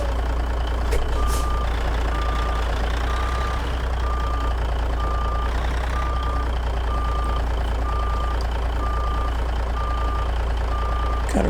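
In American Truck Simulator, a long-wheelbase Peterbilt 379 with an N14 engine reverses, its backup alarm beeping in a steady, evenly spaced pattern over a loud, constant diesel idle rumble, with a brief air hiss near the start.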